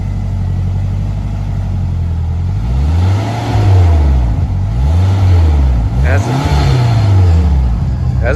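Nissan S14 with a newly fitted exhaust, idling low and then revved three or four times in rising-and-falling sweeps, loud and close, with someone talking near the car.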